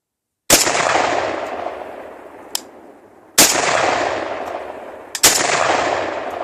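Three sharp, loud rifle shots crack at a target during an AK versus AR comparison, each with a long decaying outdoor echo, with faint distant pops between them.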